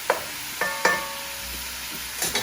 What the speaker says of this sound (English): I'm going to brown this meat